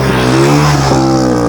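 Motorcycle engine roaring steadily and loudly close by on a mountain road, a continuous buzzing drone with slight pitch wobble throughout.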